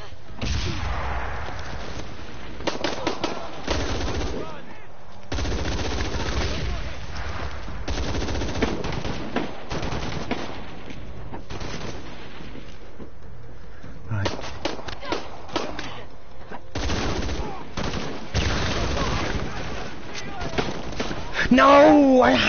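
Rifle gunfire in the video game Shadow of the Tomb Raider, repeated sharp shots and bursts scattered through the stretch amid game effects, with someone talking over the action.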